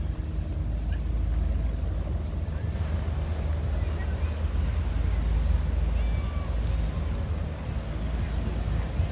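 Seine Princesse river cruise boat on the Seine coming in to dock, heard as a steady, loud low engine and water rumble with constant wind buffeting the microphone throughout.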